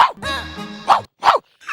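A person mimics a dog, giving a few short bark-like yelps and a drawn-out whining tone in quick succession, close and fairly loud, during a comedy skit.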